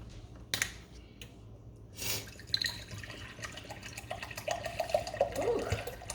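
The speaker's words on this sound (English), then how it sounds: "it's time to pour the water." Water is poured into a cooking pot in a home kitchen while making salmon head stew, a close splashing, gurgling flow with a few drips and knocks that builds over several seconds, without any talking.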